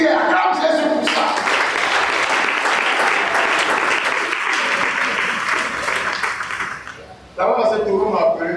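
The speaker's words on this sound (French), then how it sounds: "Acclame Jésus pour ça." A church congregation at a night prayer service during a fast breaks into loud, sustained applause mixed with cheering voices for about seven seconds. A brief lull follows, then the clapping and voices rise again.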